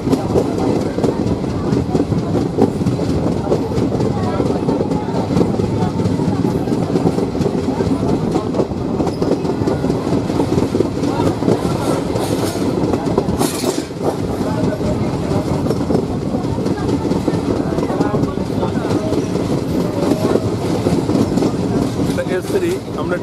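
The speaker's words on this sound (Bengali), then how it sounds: "ওই যে বেঁকছে ট্রেন।" Passenger train on the Siliguri to New Mal Junction line running through forest and rounding a curve, heard from on board as a loud continuous rumble with steady clickety-clack of wheels over rail joints.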